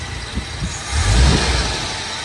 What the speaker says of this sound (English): And the fan is turning.